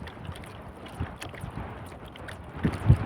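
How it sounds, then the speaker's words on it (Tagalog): Gusty wind buffets a small fishing boat at sea during traditional handline fishing in the Philippines, a continuous low rumble with a couple of stronger thumps near the end. "Lumalakas talagang hangin,"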